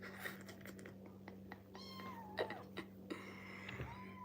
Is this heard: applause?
no